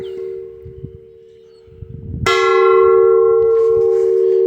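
A 101-year-old oxygen cylinder used as a gong is struck once, ringing out like a church bell with a long sustained tone after a quieter lingering hum.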